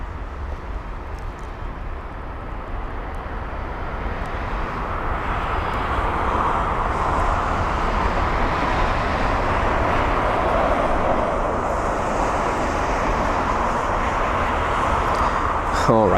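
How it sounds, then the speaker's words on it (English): Biman Bangladesh Boeing 787-8 Dreamliner at London Heathrow, a broad engine roar building gradually and holding loud and steady toward the end, with no clear talk over it. "we've got Biman Bangladesh in the 787-8 Dreamliner"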